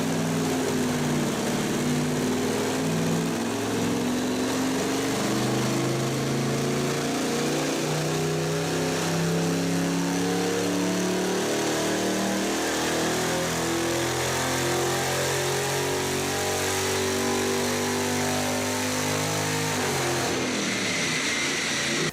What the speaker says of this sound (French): Maintenant, nous allons tester le compresseur volumétrique valve ouverte.